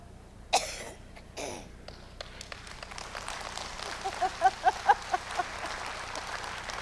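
A speaker coughs hard twice near the start of a talk, followed by quieter throat sounds and a run of short rhythmic thumps, in a reverberant room with low hum.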